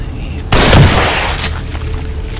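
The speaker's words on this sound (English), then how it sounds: "Oh no, that's a regular machine gun. And you also get a rocket launcher." A sudden loud blast, like a rocket launcher shot, erupts in the video game The Evil Within and decays into a rumbling tail, followed by a second sharper crack and scattered lighter gunfire.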